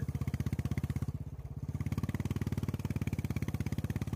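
A Royal Enfield Bullet motorcycle rides along a mountain road between Ooty and Kinnakorai, its engine thumping in a steady, even rhythm throughout and close to the listener.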